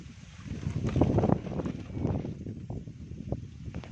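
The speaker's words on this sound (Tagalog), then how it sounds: "So sobra kasing lakas dito ng hangin guys." Strong gusts buffet the microphone in heavy, low rumbling bursts that rise and fade, with scattered knocks in between.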